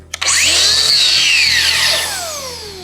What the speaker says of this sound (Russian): Стартуем штроборез.